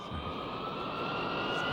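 An airplane's engines roar steadily on takeoff, a loud continuous jet whine with a sustained tonal hum, no voices over it.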